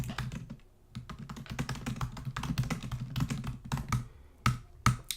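Steady typing on a computer keyboard as a process name is entered, quick irregular clicks in short runs with a brief pause, close and fairly quiet, no voices.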